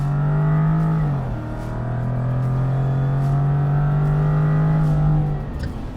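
A Jaguar F-Type sports car engine drones loud and steady while accelerating, the pitch dipping briefly after a second then holding high before cutting off near the end.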